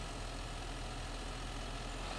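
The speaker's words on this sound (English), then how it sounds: "I'll again jump into the John Deere tractor" A John Deere tractor engine idles steadily in a farming game, giving an even, continuous low rumble with no change in pitch or level and no voices.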